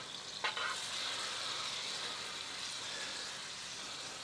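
Ribeye steak frying in melting butter with thyme leaves, a steady close sizzle and crackle running throughout, with a brief sharper spatter near the start and no talking.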